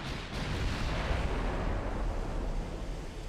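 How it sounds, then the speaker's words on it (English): Naval gunfire from 9-inch guns in Ultimate Admiral: Dreadnoughts, a sustained low rumbling roar of distant heavy guns with dense noisy booming throughout, no talk. "We're getting ready to fire. Yeah, those sound kind of weedy. Those are more likely 9-inchers."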